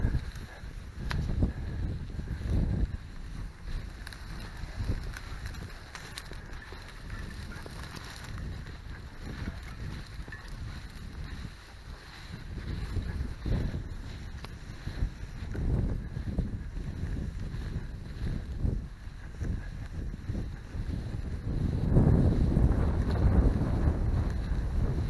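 Wind buffets a microphone beside the River Adur, a continuous rumbling roar that swells and fades in gusts, growing strongest near the end, with no voices.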